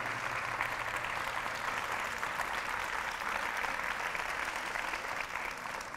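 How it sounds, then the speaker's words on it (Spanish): An audience at a university event applauds a guest speaker, a continuous roomful of clapping heard at a moderate distance, steady for several seconds before easing slightly at the end. "Aplausos."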